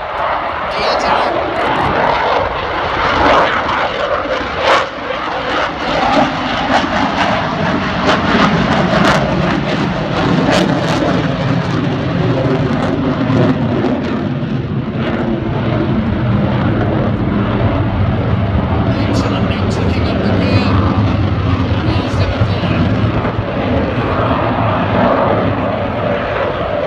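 A Eurofighter Typhoon jet roars continuously at an air display, a loud sustained engine rumble with shifting tone as it manoeuvres with gear down, while a commentator speaks over it.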